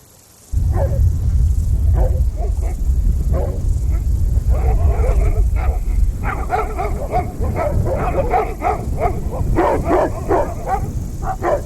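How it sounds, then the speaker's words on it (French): Livestock guardian dogs bark loudly and repeatedly at hikers, with yips and whimpers among the barks over a low rumble, close and continuous after a quiet start. "Quand les chiens aboient, c'est parce qu'ils ont peut-être peur de vous."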